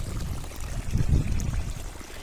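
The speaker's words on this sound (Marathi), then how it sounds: "आपण उसाव पाणी चालू केलं" A steady stream of irrigation water gushes and gurgles continuously from a pipe into a sugarcane field, low and rumbling, with no voices.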